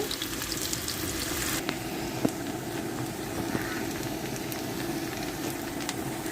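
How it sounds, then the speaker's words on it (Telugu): Small sambar onions fry in oil with cumin in a continuous, close, even sizzle that crackles steadily throughout, with a faint clink or two. "ఉల్లిపాయలు బాగా వేగిపోవాలండి గోధుమ కలర్లోకి వచ్చేయాలి"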